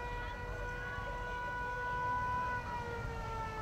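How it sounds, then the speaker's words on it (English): A police siren wails continuously at a Memorial Day parade, with a steady, sustained tone throughout, fairly loud against a rumbling background. "I hear the siren and I see the police officer"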